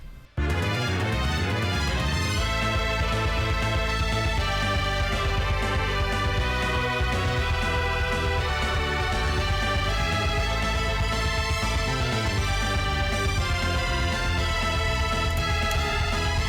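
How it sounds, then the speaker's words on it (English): Orchestral arrangement built from Golden Sun sampled instruments, with celesta, music box, choir, strings and timpani playing together. A dense, loud, continuous passage that starts abruptly and runs without talking. "Different ones from like the Celesta, music box, choirs, strings, timpani"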